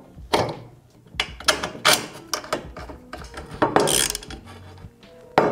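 Clanking and ratcheting of tools and metal parts while a back wheel goes onto a custom scooter deck in a workshop, a series of sharp, close clicks and knocks in uneven bursts.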